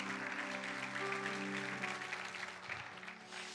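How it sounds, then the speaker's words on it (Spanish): A church congregation gives a faint, distant round of applause, with sustained musical tones underneath. "Dale un fuerte aplauso a Dios."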